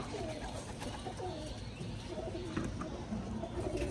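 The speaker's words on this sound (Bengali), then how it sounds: "পায়রা কিন্তু উপর দিয়ে প্রচুর উঠছে" Pigeons at a Rajshahi pigeon farm cooing in soft repeated low calls amid a busy, noisy background, with people talking nearby.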